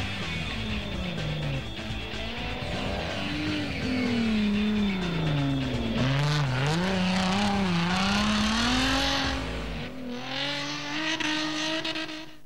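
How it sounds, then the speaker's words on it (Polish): Rally car on the Polish Safari churning through deep sand ruts on large tyres with failed power steering, the engine loud and close, revving up and down in wavering surges with occasional tyre scrabble. "W takich głębokich kolejnach, w tym piachu i przy tym rozmiarze opon prowadzenie auta z awarią układu wspomagania kierownicy nie jest łatwe"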